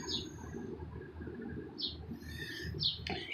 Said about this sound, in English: you can see my little friends over here, squirrels and the birds